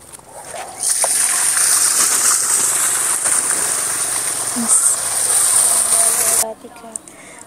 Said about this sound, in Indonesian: Yuk langsung aja kita uji coba untuk semburan airnya.